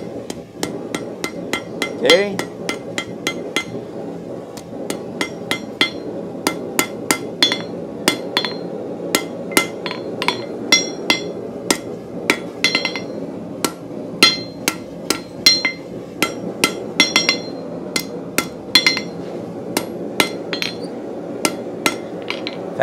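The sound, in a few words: hammer shaping a hook point on an anvil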